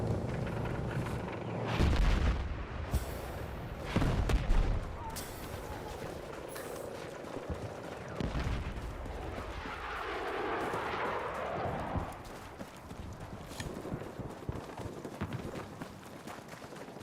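Gunfire in the game Battlefield 6: heavy booming shots and bursts, loud at first, then a rumbling explosion-like swell before the sound drops to quieter scattered noise.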